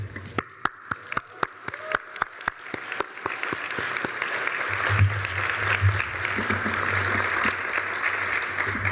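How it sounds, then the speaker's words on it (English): Isolated hand claps start the applause, then a crowd at an advocacy awards event fills in with dense clapping and cheering that builds and holds, loud and close, with a brief voice rising within it. "I'd encourage you to cheer for them"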